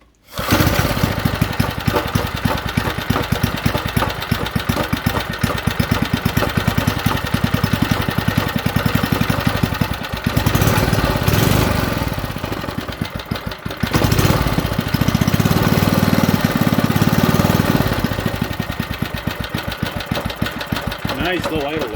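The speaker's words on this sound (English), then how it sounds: "Nice, low idle, wow. Anyway, so there we go, it runs." A Briggs and Stratton small engine runs at low idle, a loud, steady, close-up chugging putter with rapid even firing pulses that holds for over twenty seconds with slight dips.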